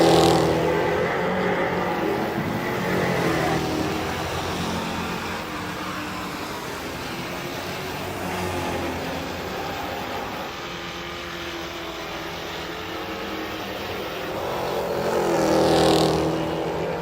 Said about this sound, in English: the first of 2 timed hot lap sessions are rolling to the speedway right now